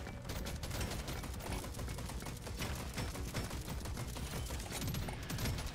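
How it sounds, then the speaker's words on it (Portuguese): Rapid, dense gunfire from a companion robot shooting at enemies in Deep Rock Galactic Survivor, a continuous loud crackling barrage with no pauses and no talking. "E aquele robô que nos acompanha também dispara para os inimigos."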